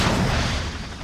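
A Hellfire missile strike in Call of Duty: Modern Warfare: a dense, loud, roaring blast that holds at full strength for about a second, deep rumble under a wash of noise, with no talking.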